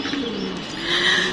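Racing pigeons landing during a tournament final coo softly and close by, a low steady murmur with faint chirps over quiet background.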